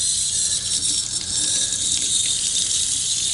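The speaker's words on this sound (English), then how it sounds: "I need to try out the hot water." Hot water running steadily from a tap into a sink inside an RV, a constant broadband rush with no pauses and no voices.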